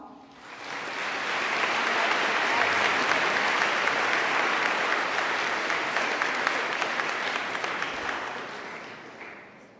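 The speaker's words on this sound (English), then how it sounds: "Clapping is in order now." Sustained applause from a room of delegates at a Model UN conference opening ceremony, swelling quickly, holding steady and dense for several seconds, then tapering off near the end.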